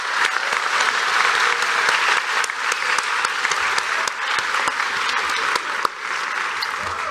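A large audience applauds steadily for the 2024 distinguished alumni at an awards ceremony, dense continuous clapping filling the room for several seconds with a few sharper claps standing out.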